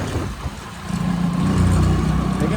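A motorbike in motion, ridden one-handed, gives a steady low engine rumble that swells louder after a moment and holds, with rushing wind noise throughout and no talk.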